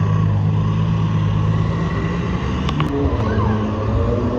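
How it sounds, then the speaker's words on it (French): A car passing on a street in Monaco, amid a run of supercars and hypercars, heard as a steady broadband engine and road rumble that swells slightly midway under busy outdoor ambience. "il y avait une voiture, j'ai pas vu ce que c'était"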